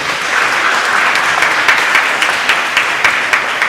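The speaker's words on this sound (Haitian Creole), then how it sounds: "Applaudissez-les s'il vous plaît." Wedding guests applaud newlyweds Alain and Rose at a French-language ceremony, a dense, steady wash of clapping that holds loud and even throughout, with a few sharper claps standing out.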